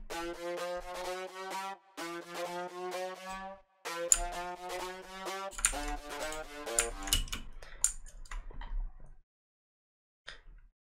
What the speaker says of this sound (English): With the pitch bend, the lead will sound like this.